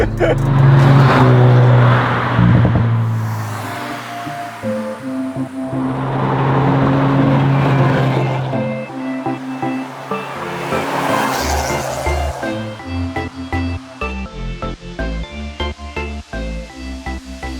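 A 2004 Mazda RX-8 Type S with its rotary engine revs hard up toward 8000 rpm, climbing in loud sustained surges with gear changes between pulls, heard from inside the car on a winding road.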